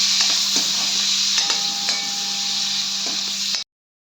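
Tomatoes sizzle steadily in a hot pan while being stirred for pasta, a continuous bright frying hiss with faint scraping taps of the spoon, close and fairly loud, cutting off abruptly.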